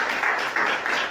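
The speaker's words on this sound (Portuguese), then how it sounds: "Quem crê pode aplaudir, pode glorificar." A church congregation breaks into brief applause during a sermon, a short soft burst of clapping at moderate distance.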